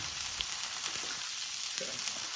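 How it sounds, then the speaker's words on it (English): Lamb meat searing in a hot pan, a steady close hiss of sizzling fat with a few small pops and crackles, no voices. "the meat was not getting seared the way I like it"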